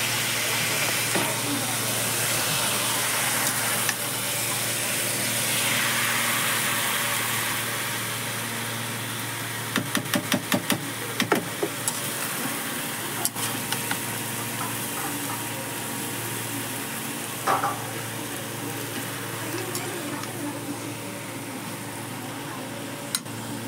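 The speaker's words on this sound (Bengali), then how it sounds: "মাংস ঢেলে দিয়েছি, এবার ভালো করে মিক্স করে নেব।" Meat frying in a pan with onion, garlic, tomato and ginger for a Bengali New Year meal: a steady, quiet sizzling hiss with a brief cluster of stirring clicks midway and faint voices in the background.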